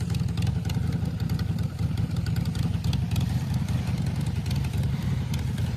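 Harley-Davidson Custom 1200 motorcycle running on a straight pipe exhaust: a loud, steady, close-up engine rumble with a dense low throb and mechanical clatter, continuous throughout with no talking.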